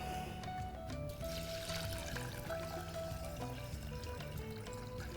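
Water pours from a container into a small pot holding rice in a kitchen, a close, steady liquid gurgle and trickle with a bubbling, rising pitch as the pot fills, lasting several seconds without speech.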